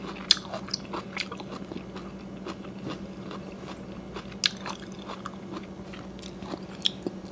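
Close, crisp crunching as someone chews boiled bamboo shoots dipped in shrimp salt, with irregular sharp bites and crackles over a faint low hum.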